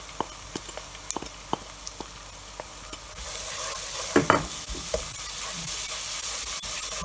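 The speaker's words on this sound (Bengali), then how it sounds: "একটু নেড়ে চেড়ে" Onion and spices fry in a pan on high heat while a spoon stirs them, giving a steady close-up sizzle. Soft scraping clicks come first, then the hiss swells louder with brief clatters as the mix is turned.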